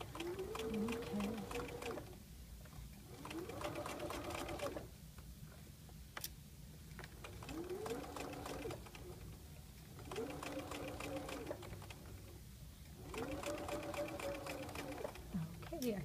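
A sewing machine stitches a convertible collar in several separate bursts of rapid rhythmic whirring, with short pauses between runs and a quiet background.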